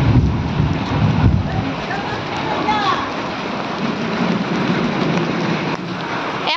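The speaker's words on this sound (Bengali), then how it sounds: "এখন বৃষ্টি পড়তেছে" Rain falls steadily during a Kalbaishakhi storm with hail, a dense broadband wash of drops spread across the whole clip, with a low rumbling roar that swells early and stays loud throughout.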